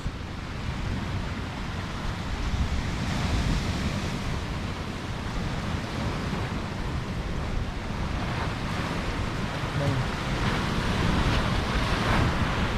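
Steady roar of Caribbean Sea surf washing in at Capurganá, Colombia, broad and continuous, with wind buffeting the microphone throughout; no voices.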